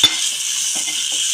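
Potato sizzling as it is sautéed in a hot pan with ribbon fish, a steady close frying hiss running throughout with a faint clink of a utensil at the very start.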